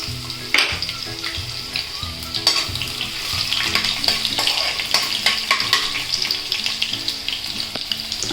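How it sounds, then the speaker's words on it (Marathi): Garlic, cumin and mustard seeds frying in hot oil for fodnicha bhat, a steady close crackling sizzle with scattered pops and the occasional scrape of stirring throughout. "तेल गरम झाले तर लसूण टाकते जिरं मोरी टाकते"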